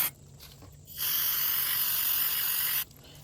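A steady hissing aerosol cleaner spray into a Cub Cadet string trimmer carburetor bursts on for about two seconds, then cuts off, with quiet workshop sounds before and after.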